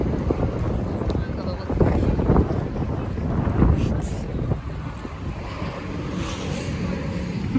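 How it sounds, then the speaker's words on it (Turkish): A sea breeze off the Bosphorus gusts against the microphone near the water on a hot day, buffeting in rough, uneven bursts that swell and ease, with light splashing and possible boat noise in the background. "boğazdan gelen bir rüzgar var"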